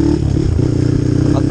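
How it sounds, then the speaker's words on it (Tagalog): A motorcycle engine runs steadily on a mountain trail, a loud, close, continuous drone with some clatter and rattling over the rough ground. "Maghapon tayo nagpapatakbo ng motor."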